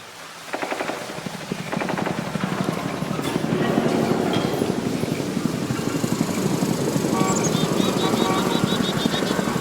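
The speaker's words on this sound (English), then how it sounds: "this is what the distant ambient helicopter sounds like in WARFRAME 1999" A distant ambient helicopter in the video game Warframe 1999 gives a continuous pulsing, rumbling rotor wash that swells after a quiet start and holds steady, heard alone without talk.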